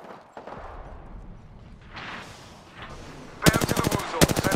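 Bursts of rapid automatic gunfire from an Apex Legends ranked match ring out in the last second or so, two loud clusters of sharp shots after quieter game ambience.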